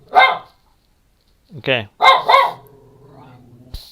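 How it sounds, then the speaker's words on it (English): A pet dog barks a few times close by indoors, short sharp yelps in a quick burst, with a person's voice speaking just before and after. "Stop. You're barking too much."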